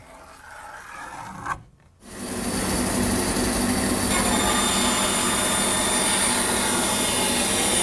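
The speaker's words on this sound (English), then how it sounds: "freehand cut on the bandsaw" A bandsaw cuts freehand through a kiln-dried board, a short quiet pause giving way to a loud, steady rasping whine as the blade bites in and runs on continuously.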